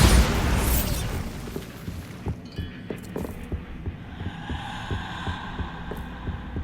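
The Bombarda explosion spell goes off in Hogwarts Legacy: a loud burst at the start decays into a low rumbling hum, with a series of rhythmic deep thuds pulsing underneath.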